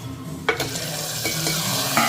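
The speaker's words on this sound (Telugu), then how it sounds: "తాలింపు వేస్తున్నాను" A hot tempering of curry leaves and dried red chillies in oil poured into dal for a chana dal coconut curry, a short steady sizzle with a few sharp clinks of a spoon or pan.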